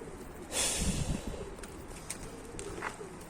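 Pigeons cooing inside a coop, a soft throaty burst near the start followed by quieter intermittent coos and faint rustling, close by and alone.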